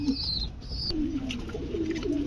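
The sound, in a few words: pigeon cooing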